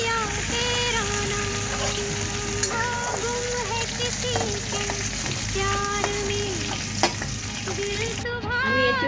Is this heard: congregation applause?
no